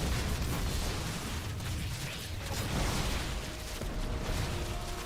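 A Colossus unit is destroyed during a StarCraft 2 match, a dense wash of game explosions, bursts and mechanical battle noise running continuously and loudly for several seconds without voices.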